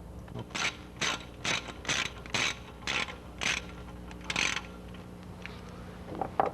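Ratchet wrench clicking in steady bursts while bolts are loosened to pull the bottom pulley off a car engine, about eight evenly spaced ratcheting pulses, close and fairly loud, then quieter mechanical clatter.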